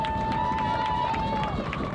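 Crowd noise at a Westerly vs. Narragansett boys varsity lacrosse game, a loud, steady wash of voices with a whistle tone held through most of it, ending as the din shifts.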